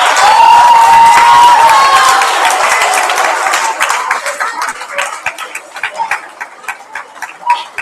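Students at a secondary school prizegiving applaud their parents, loud and dense at first with cheering and a whistle, then thinning into scattered, separate claps that trail off.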